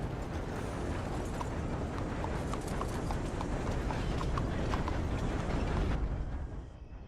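Horse hooves clip-clop at a steady walking pace in Red Dead Redemption 2, the light rhythmic footfalls sitting over a dense continuous ambient rumble until the sound drops near the end.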